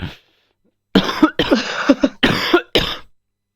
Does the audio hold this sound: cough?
yes